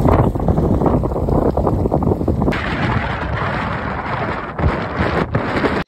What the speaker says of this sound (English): the Santa Ana winds were clearly hitting the canyons and the coast